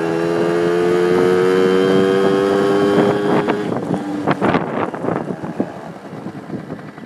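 A Yamaha Towny moped engine while riding gives a loud steady whine, then rough revving and uneven bursts, with wind buffeting the microphone throughout.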